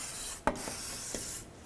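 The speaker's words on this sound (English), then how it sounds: "Let's go ahead and spray down this whole area with some penetrant." Aerosol penetrant sprayed around the rear ABS sensor on a Ford Ranger's differential, a constant close hiss broken by a couple of brief bursts and small clicks.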